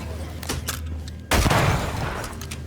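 Gunshots fired at a lantern in Banishers: Ghosts of New Eden: a few faint shots, then a loud sudden blast that rings out and decays over a couple of seconds.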